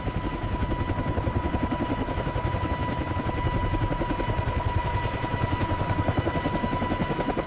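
Black Hawk military helicopters flying during a mass troop landing, a steady loud rotor thump with a rapid pulsing beat and a continuous engine whine, constant throughout with no talk.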